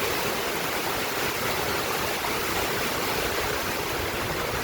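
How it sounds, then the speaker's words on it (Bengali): Heavy rain pours over a river, a dense and unbroken roaring wash of noise that holds steady throughout. "প্রচুর বৃষ্টি, বৃষ্টির ভিতরে নদী আস্তে আস্তে দেখা যাচ্ছে"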